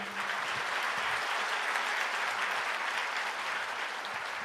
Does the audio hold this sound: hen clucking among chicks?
no